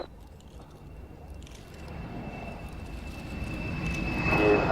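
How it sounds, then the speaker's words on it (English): A Nimrod aircraft flyby, its engine roar swelling steadily from a distant hum to a loud rush as it approaches, with a thin steady whine above. "the Nimrod is completing this flyby and then departing"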